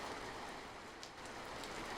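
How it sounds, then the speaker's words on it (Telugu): Heavy rain pours down in a steady, dense hiss with no breaks. It stays fairly faint and even, and no one speaks over it. "ఈ వర్షాన్ని చూస్తుంటే చాలా ఎక్కువగా పడుతుంది"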